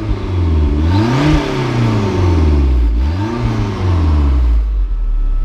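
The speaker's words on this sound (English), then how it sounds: "All right, so we're gonna hear the exhaust." A 1987 Toyota MR2 with a swapped turbocharged 3S-GTE engine revs hard twice through its exhaust, rising to a loud roar and dropping back to a rumbling idle, close by with no talking.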